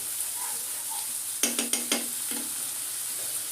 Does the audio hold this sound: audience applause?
no